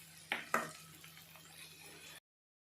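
Plantain curry frying in a pan is stirred, with two sharp scrapes of a spoon against the pan over a faint, steady sizzle, quiet and without speech.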